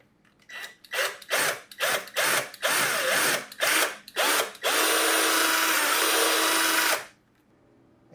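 A power drill bores out larger bolt holes in the side of a helmet, a string of short whining bursts followed by one long continuous grinding run, loud and close.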